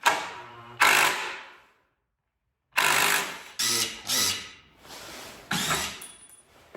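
A power drill boring pilot holes into a workbench, several short bursts of whirring separated by pauses, close and fairly loud with no talk.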